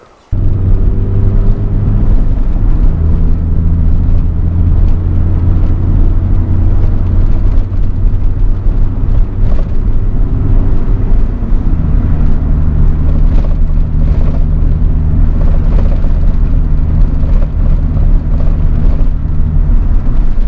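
Inside a moving Honda Del Sol, a steady low road and engine rumble fills the cabin throughout, with faint intermittent rattling from the loose targa roof panel mixed into the drone.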